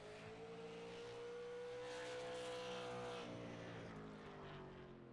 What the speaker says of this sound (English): we have the 20 machine of Kyle Perry getting that thing up to speed here down the backstretch